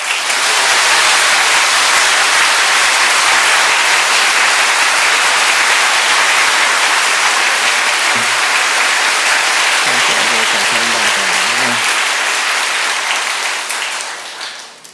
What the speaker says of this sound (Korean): 오늘 나오실 때 힘찬 박수로 환영하겠습니다.